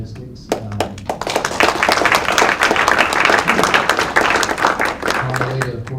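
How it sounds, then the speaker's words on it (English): A room full of people applauds a court clerk at a jury improvement event in Oklahoma City, steady dense clapping building quickly and sustained for several seconds, with a brief voice near the start. "we all need to give a round of applause to Carmelita Shin"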